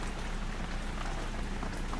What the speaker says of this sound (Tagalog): What we gonna do with the rain? Napakalakas ng ulan.